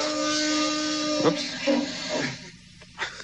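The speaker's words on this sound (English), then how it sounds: "an air hiss, as if air is escaping from something" A steady airy hiss with faint tonal lines runs through most of the clip, then fades, with a brief spoken exclamation near the end.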